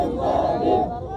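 A crowd of protesting municipal sanitation workers outside an MLA's office, a dense continuous roar of many voices shouting together, loud and close, easing slightly toward the end.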